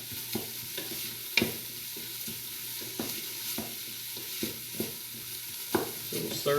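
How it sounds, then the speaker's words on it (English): Onion, garlic and ginger sizzling in a pot for chicken soup: a steady soft frying hiss under repeated clicks and scrapes of a spoon stirring, fairly quiet and close, with no talk. "So I can still hear the sizzling, which means I've got enough heat in it and it's doing what it needs to do"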